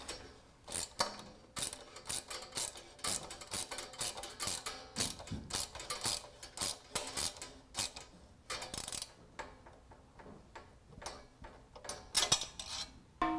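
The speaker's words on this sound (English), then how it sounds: "tighten it at the bottom with a ratchet and a socket" A ratchet and socket tightens a nut on a bolt while fitting a long expedition skid plate to a water-cooled BMW R1200GS, giving rapid, irregular close-up clicking and ticking bursts with brief pauses between them.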